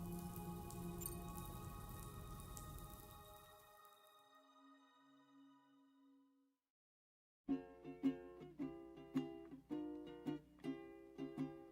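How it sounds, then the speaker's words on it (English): Rain falls in Death Stranding 2, a steady hiss of drops for the first few seconds that fades into quiet. It gives way to plucked, rhythmic musical notes. "Those raindrops are falling on my head."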